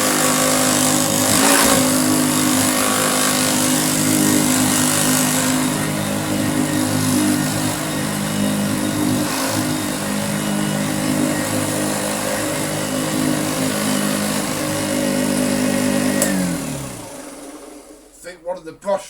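Restored Hoover Junior U1436A upright vacuum cleaner with a brush roll runs steadily and loudly at close range for about sixteen seconds, then winds down and stops near the end.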